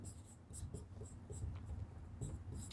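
Pen scratching across paper while an answer is written out during a Class VIII Sanskrit workbook lesson, a soft continuous scribble with brief strokes, close and quiet with no talking.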